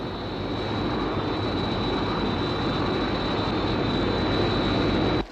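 Sky 1, a fixed-wing aircraft, flies level at 10,000 feet with a steady, loud engine roar and a high sustained whine, continuous until it cuts off abruptly at the end.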